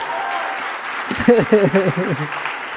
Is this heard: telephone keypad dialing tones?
no